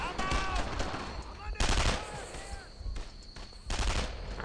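World War II battle gunfire in Brothers in Arms: Earned in Blood, loud close bursts of rifle and machine-gun fire in repeated volleys, with shouted voices between shots.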